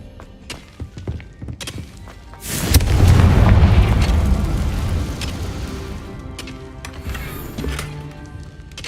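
A Confringo fire spell explosion in Hogwarts Legacy: scattered knocks and clatters, then a heavy roaring boom that swells and slowly decays over several seconds.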